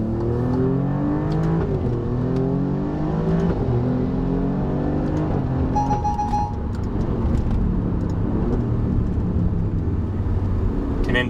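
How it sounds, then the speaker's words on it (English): A tuned Alfa Romeo Giulia Quadrifoglio, making about 560 hp, pulls hard onto a highway. The engine rises through the gears with climbing harmonics and brief shift breaks, heard loud and steady from inside the car. "I'll do a quick pull getting onto the highway here"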